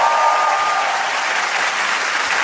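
Studio audience applause at a Korean TV music talk show, a dense, steady wash of clapping from many hands that holds at full strength without a break.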